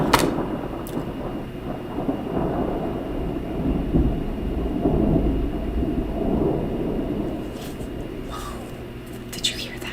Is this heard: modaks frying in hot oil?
no